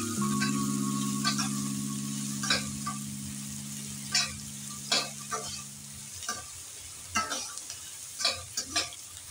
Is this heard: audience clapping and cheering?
no